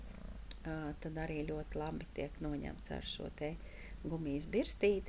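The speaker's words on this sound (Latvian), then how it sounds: "varbūt fonā dzirdat tādu murrāšanu, ziniet, tas ir kaķis, tas nav kompjūters." A domestic cat purrs softly and steadily in the background, a low continuous rumble heard beneath a person speaking throughout.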